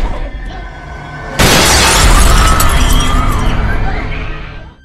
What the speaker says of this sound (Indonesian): tiba-tiba mereka lagi-lagi dikejutkan dengan lemparan sebuah boneka yang memecahkan kaca jendela.